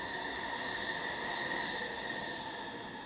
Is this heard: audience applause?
no